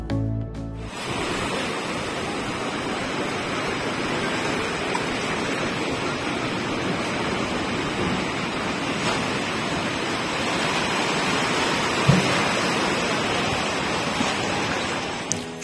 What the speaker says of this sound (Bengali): সমুদ্রের ধারে এসেছি